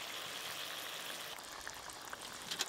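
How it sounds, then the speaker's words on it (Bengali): Fish curry gravy bubbling at a steady boil in a pot, a continuous close hiss of small bursting bubbles with a few sharper pops toward the end, no talking. "ঝোল তো ফুটে গেল"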